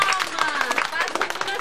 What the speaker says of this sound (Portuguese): As palmas, gente.